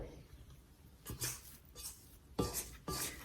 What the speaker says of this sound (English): I'm gonna scrape the sides.